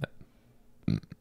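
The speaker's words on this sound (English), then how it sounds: "I'm burping." A woman's burp, one loud throaty belch near the middle, followed by a short second burst, with faint quieter sounds before it.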